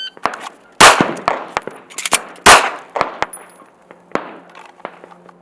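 Pistol shots on an outdoor range during an emergency reload drill: loud, sharp reports in irregular bursts, with metallic clicks and clatter of the magazine change between shots and a faint ringing tail.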